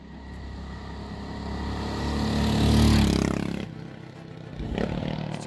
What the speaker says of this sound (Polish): całym ciężarem ciała na tą dźwignię napieramy i motocykl nam odpala